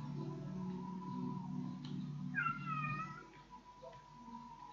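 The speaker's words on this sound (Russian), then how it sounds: "Кот наелся бумаги и хочет" A domestic cat gives a single drawn-out meow over a low, steady hum and faint background noise.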